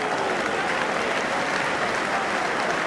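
A small crowd at a football match in Swansea applauding, a steady wash of clapping from the stands that holds evenly throughout.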